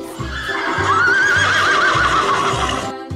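A horse gives one long, loud, wavering whinny that rises and falls for about three seconds, heard close up and alone with no talking.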